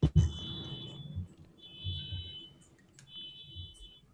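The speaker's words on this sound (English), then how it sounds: "I'm just gonna mute because there's a car alarm outside." A car alarm sounds somewhere outside, heard faintly from indoors as a repeating high electronic tone in short bursts with gaps, over low room noise.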